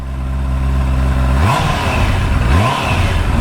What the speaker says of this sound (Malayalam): ഇതാണ് ഇതിൻ്റെ എക്സോസ് നോട്ട്